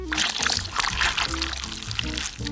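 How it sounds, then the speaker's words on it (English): Egg being poured into a bowl, a short wet pouring and glugging sound with small splashes and trickles, close and fairly loud, over faint background voice. "Now we pour this into the bowl."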